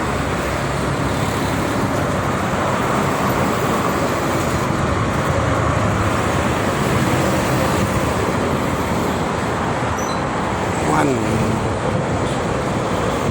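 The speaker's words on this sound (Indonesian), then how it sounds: "kebanyakan kalau pagi mobil-mobil truk angkutan barang sangat banyak sekali" Heavy morning freight-truck traffic on the Jakarta-Cikampek toll road makes a dense, continuous roadway rumble, with a passing vehicle briefly louder near the end.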